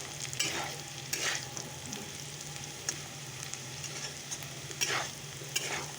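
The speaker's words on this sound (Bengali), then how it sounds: "এখানে দেখো লায়ের খোসা আর আলু ভাজা করছি" Bottle gourd peel and potatoes fry in a pan with a constant close sizzle, while a spatula scrapes and stirs every second or so in soft, irregular strokes.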